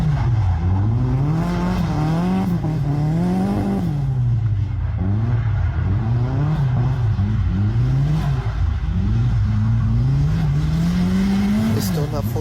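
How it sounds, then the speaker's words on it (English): A rebuilt Nissan 240SX drift car is driven under its own power, the engine loud and close as it repeatedly revs up and drops back in rhythmic surges, with an occasional tire chirp and no one talking. "I'm happy this car is finally done and able to drive under its own power"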